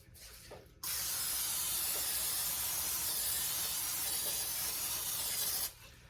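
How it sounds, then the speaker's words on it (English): A steady aerosol hiss of non-stick butter cooking spray onto a 13 by 9 cake pan runs for about five seconds, close and loud, then stops. "We have our 13 by 9 pan that we're gonna spray"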